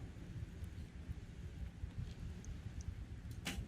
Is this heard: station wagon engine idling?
no